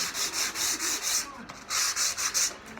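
Wooden table drawer runners are sanded by hand in quick rhythmic back-and-forth rubbing strokes, close up, with a brief pause midway before the strokes resume.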